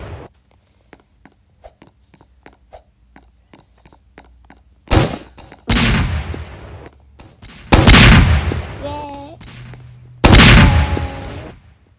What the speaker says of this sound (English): What if I do the grenade gun at the gate?